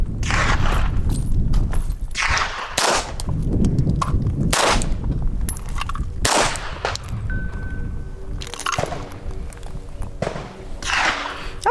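A .380 pistol firing, a series of sharp loud shots at irregular intervals, close and dominant, with faint reverberant tails between them.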